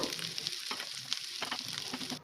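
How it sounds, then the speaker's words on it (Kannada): Ginger garlic paste fries in a pan over onions for a dhaba-style potato sukka, giving a steady close sizzle with scraping stir sounds and no talk. "ಶುಂಠಿ ಬೆಳ್ಳುಳ್ಳಿ ಪೇಸ್ಟ್ ಹಾಕೊಳ್ತಾ ಇದ್ದೀನಿ. ಇದು ಸ್ವಲ್ಪ ಚೆನ್ನಾಗಿ ಫ್ರೈ ಆಗಬೇಕು."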